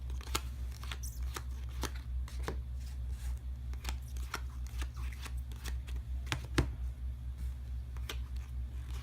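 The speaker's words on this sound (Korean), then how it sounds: "우선 카드를 잘 섞은 후 한 명당 5장씩 가질 수 있도록 나눠줍니다." A deck of playing cards being shuffled for a card game, with a series of crisp riffles and snaps spread unevenly across several seconds over a low steady hum.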